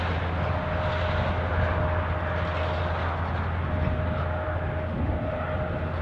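Incoming airliner approaching Newcastle airport, a steady distant engine roar with a low rumble and a thin whine held throughout, moderately loud and unbroken.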